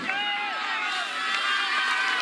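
Spectators massed along the roadside as a cycling race passes into Waregem, a steady distant crowd murmur with faint cheering, a voice talking over it throughout.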